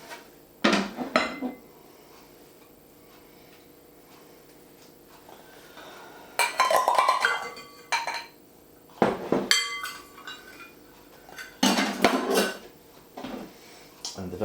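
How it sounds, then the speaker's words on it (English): Meatloaf ingredients land in a bowl as several separate clattering knocks and clinks of dishes and utensils, spaced out over quiet gaps, fairly close and moderately loud. "so now we can just hurl it all together into a bowl"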